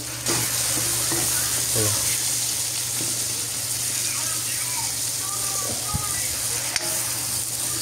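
Onions frying with pork steak in a pan, a steady loud sizzle with faint crackles and a few light clicks of a utensil; a voice speaks briefly over it.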